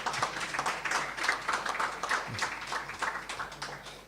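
A crowd at a youth track and field meet claps, broad continuous hand-clapping from the stands that rises and falls slightly, with a brief low bump partway through and no clear speech.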